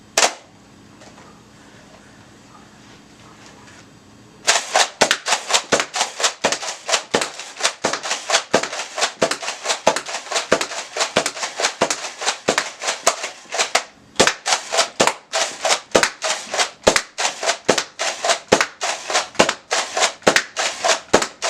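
Nerf blaster, a Rampage or Firefly, firing foam darts on an indoor firing range: a long run of sharp, evenly spaced shots, close and loud, with a brief pause midway and a quiet electronic hum before the firing starts.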